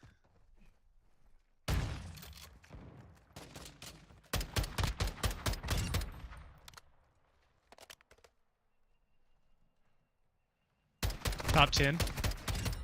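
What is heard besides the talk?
gunfire in video game Modern Warfare II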